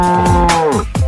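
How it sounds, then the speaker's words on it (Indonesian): A toy cow gives several short, loud mechanical moos in quick succession, each with a falling pitch, and nothing else can be heard. "Wah, ini sapi."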